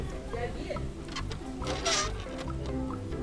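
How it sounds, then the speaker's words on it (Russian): Goats bleating in an enclosure at Izhevsk zoo, several short calls rising over steady background chatter and zoo ambience, one louder bleat near the middle, with people talking nearby throughout. "Тут вон всякие козлы, я их боюсь, поэтому просто пройду мимо."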